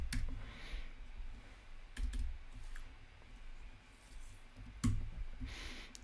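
Someone types a value on a computer keyboard, producing a few scattered, faint key clicks in a quiet room.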